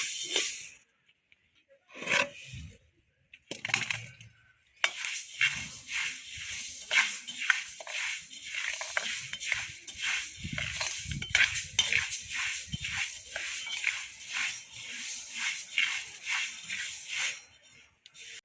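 Dry grains of narippayir being roasted in a pan for laddu, stirred continuously with a metal spoon, giving a steady close scraping and rattling with soft dry crackle, after a few sparse clinks at the start.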